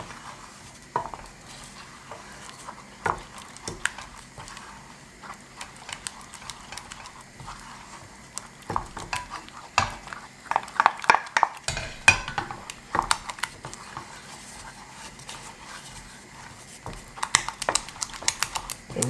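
Spoon scraping and clinking in a pan as a coconut curry sauce for sea bass is stirred, a steady run of soft scrapes and light taps at close range with no talking.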